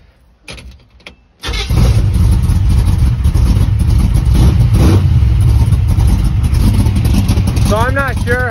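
A Chevy C10 truck engine cranks and catches after a few faint clicks and knocks, then settles into a loud, steady idle that runs close by to the end.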